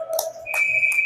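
A referee's whistle at a youth hockey game gives sharp, shrill bursts, one clear blast followed by two quick ones over a steady tone, close and loud.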